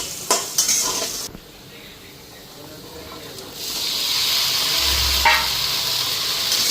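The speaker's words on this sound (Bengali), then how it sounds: "এখানে আগে আলুটা ভেজে নিতেছি" Potatoes fry in a pan with a steady hissing sizzle that swells louder partway through, broken by a few sharp clinks and scrapes of stirring.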